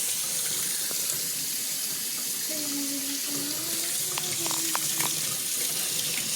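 Tap water runs steadily over a wet grinder stone being washed, a close continuous splash with brief scraping and knocking against the stone toward the end.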